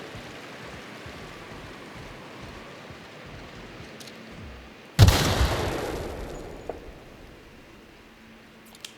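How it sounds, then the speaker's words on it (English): A single bolt-action rifle shot in The Outer Worlds video game: one sharp, loud crack partway through that trails off in a long echoing decay over a quiet ambient background. "With our awesome bolt action rifle here."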